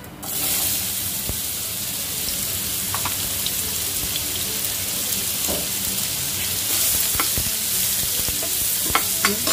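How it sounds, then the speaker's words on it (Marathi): Raw mango pieces frying in oil with fenugreek seeds and asafoetida, a loud steady close sizzle with occasional spatula scrapes and pops, no talking over it. "गॅस थोडा बारीक करून ह्या कैरीच्या फोडी परतून घेऊ।"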